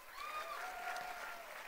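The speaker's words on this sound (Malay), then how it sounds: "Tepukan untuk Amway" Audience applause for Amway Malaysia at a corporate event, a steady, moderately faint patter of clapping with a few tonal whistle-like sounds mixed in.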